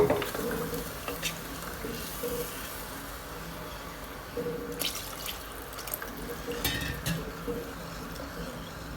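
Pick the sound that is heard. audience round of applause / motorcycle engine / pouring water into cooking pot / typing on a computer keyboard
pouring water into cooking pot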